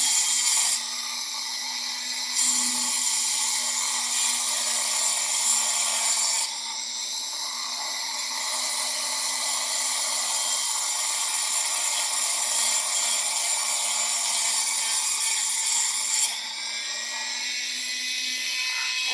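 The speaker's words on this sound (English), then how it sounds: "finish carving it and sanding it." Rotary tool whining steadily as it carves and sands a bone guitar pick, a high-pitched drilling tone that dips briefly and resumes, continuous and close.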